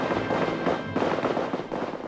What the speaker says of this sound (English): The Croatian heavy artillery positioned on the surrounding hills is ceaselessly shelling the old Muslim quarter on the east side of town.